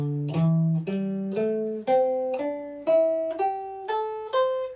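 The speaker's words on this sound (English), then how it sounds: "When you hear a lot of people playing the pentatonic skill, the beginners especially, it sounds something like this." Electric guitar plays a pentatonic scale in the manner of a beginner exercise, clean single notes stepping steadily upward one at a time, each ringing on its own with no talk.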